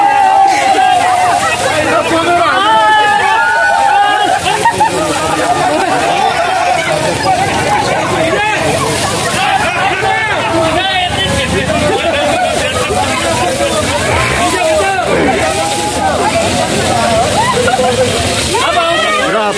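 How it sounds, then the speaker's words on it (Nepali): Water gushes steadily and loudly from a 10-inch pipe arriving at Janaki Chowk, a continuous sloshing rush under a crowd's chatter and nearby talking. "आज जानकी चोकसम्म 10 इन्ची पाइपको पाइप मार्फतबाट पानी आइपुगेको छ।"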